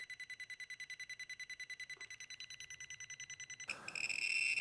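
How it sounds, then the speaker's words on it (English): A Geiger counter's radiation alarm going off in rapid evenly spaced beeps, about eight per second, then shifting abruptly to a louder continuous harsh tone near the end. "when I move it over to that one side, the alarm does go off"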